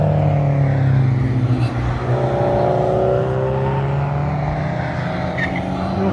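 Cars, including road cars such as a Honda Fit and a Subaru WRX STI, drive past on a race track, with engines droning loud and sustained nearby and shifting in pitch as they pass, with no talking.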